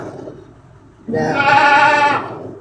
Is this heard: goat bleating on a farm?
yes